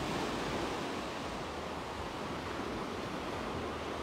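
Sea waves wash against the shore beside the beach promenade in Side in the evening, a steady, full rush of surf noise with some wind, heard up close and uninterrupted, with no voices.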